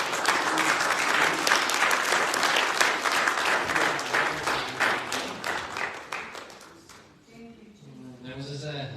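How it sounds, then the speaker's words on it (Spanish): A church congregation applauds loudly and steadily, the clapping tapering off over several seconds before a voice begins speaking near the end. "Demos ese aplauso un poco más fuerte"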